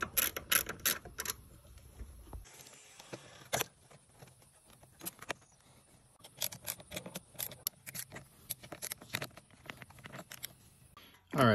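A ratchet tightens the 8mm battery terminal nut on a 2009 Ford Taurus, giving bursts of rapid, close mechanical clicks with short pauses between strokes.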